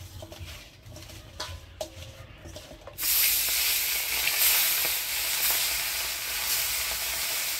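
Khoyra fish rubbed with turmeric and salt goes into hot oil: a few quiet clicks, then a sudden loud, hissing sizzle that continues steadily up close.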